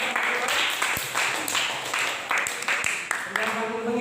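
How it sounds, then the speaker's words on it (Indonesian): Classroom applause from a group of students during an Indonesian religious lesson on ritual purification, a steady wash of clapping lasting several seconds with voices mixed in underneath. "Bagus, berikan aplaus."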